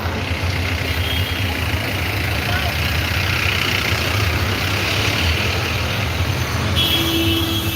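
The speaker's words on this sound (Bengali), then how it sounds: "প্রচুর জ্যাম আছে সিলেটে।" Engines of vehicles stuck in a traffic jam idle on a Sylhet city street as the first rain begins, a steady low rumble filling the scene continuously, with muffled voices faintly mixed in.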